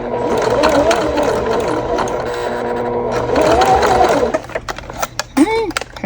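A sewing machine stitches slowly through a bag, its motor humming in a close, steady run for about four seconds before stopping, followed by scattered clicks and handling noises with a brief voice.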